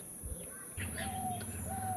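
Tournament-bred crossbreed pigeons, a Golden and Kamagar cross, coo in low, throaty, rolling tones. The cooing sets in about a third of the way through and continues steadily and close by, with faint higher chirps above it.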